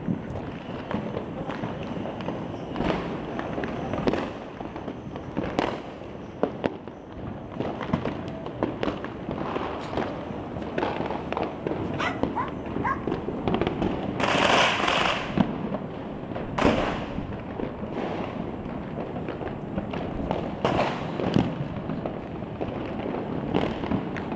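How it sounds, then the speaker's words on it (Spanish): New Year 2011 fireworks burst over Buenos Aires in a dense, continuous barrage, with sharp cracks and booming explosions going off near and far without pause, and one brief hissing streak partway through. "Está lloviendo pedazo de cohete,"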